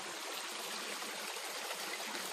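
A river stream flows steadily near a farm, a continuous broadband rush and trickle of water with no pauses, fairly close and even in level throughout.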